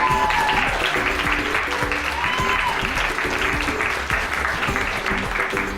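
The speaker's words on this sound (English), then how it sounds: "Huge round of applause, please, for the judges." An audience applauding the judges at a voice competition event, with steady, full clapping throughout and a faint tonal hum in the background.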